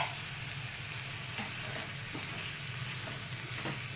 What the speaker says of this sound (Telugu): కొంచెం లైట్గా వేపుకుందామండి.